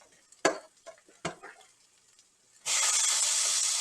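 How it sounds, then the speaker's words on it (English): Buttered slider buns go butter side down into a hot pan, a couple of soft knocks and then a sudden, loud, steady sizzle that holds to the end, close up with no talk. "put the butter side down. In fact, that's such a nice pan fry."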